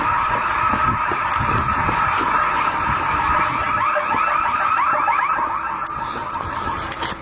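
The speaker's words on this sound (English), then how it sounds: "This is the first time we've ever set off alarms." An alarm blares inside an abandoned building, a loud continuous pulsing electronic wail echoing through the space.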